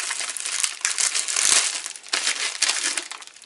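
A book is unwrapped from a bubble-wrap envelope inside an outer pouch, giving close, continuous crinkling and crackling of plastic and paper in irregular bursts.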